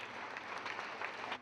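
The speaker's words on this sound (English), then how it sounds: "The roar of applause is heard offstage" A concert audience applauds offstage, faint and muffled, as a brief steady wash of clapping with no voices.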